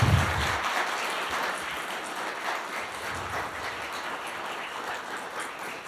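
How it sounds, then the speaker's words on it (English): Lecture audience gives a final round of applause for Jennie Stephens, a steady wash of clapping that starts loudest and gradually eases, with no voices over it. "Please join me in a final round of applause for Jennie Stephens"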